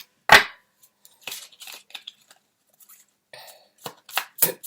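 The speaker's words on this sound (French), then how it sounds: "Alors, on va sortir une autre carte." A tarot card drawn from a deck: a sharp papery snap near the start, then a series of soft scattered card rustles and flicks, close and fairly quiet, with no talking.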